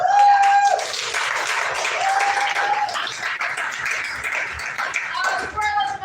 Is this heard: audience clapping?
yes